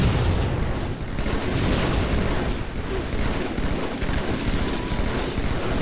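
A Warthog vehicle blows up in Halo 2 during a Team Slayer match on Turf, a dense, roaring explosion with heavy low rumble that stays loud and sustained throughout, churning without distinct breaks.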